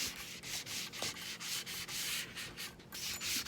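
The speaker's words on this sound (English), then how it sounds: "So I'm going to give it a light sanding." A metal lamp gets a light hand sanding before painting, a soft, rhythmic scratching of repeated back-and-forth strokes, close and quiet with no talking.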